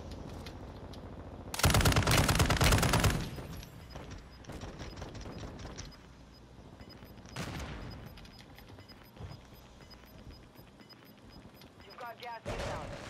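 Gunfire in the Warzone 2.0 video game, bursts of loud rapid automatic fire with scattered single shots and mechanical clatter, heard amid a busy battle soundscape with players talking.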